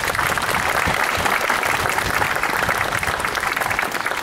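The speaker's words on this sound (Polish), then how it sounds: "Wielkie brawa jeszcze raz." Steady, dense applause from a crowd at an outdoor family picnic, honoring a brass band on its anniversary, loud and continuous for a few seconds with no other sound.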